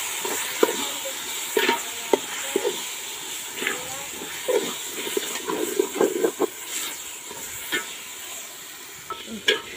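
Tomatoes sautéing in a pan for a masala, cooked outdoors on a hilltop, sizzle and hiss steadily while a spoon scrapes and stirs in irregular clatters, with a voice talking at times.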